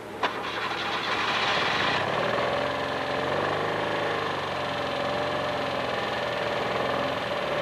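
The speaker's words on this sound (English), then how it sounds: "After starting the engine," The engine of the ASMO automatically stabilized motorcycle cranks and catches with a sharp start, then settles into a loud, steady idle that runs on without a break.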